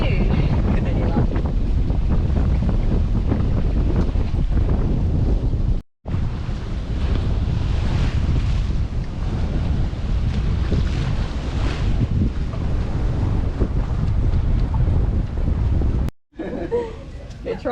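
A sailboat runs under wind through a messy, choppy sea. Heavy wind buffets the microphone and water rushes past the hull in a loud, constant wash, with two brief dropouts along the way.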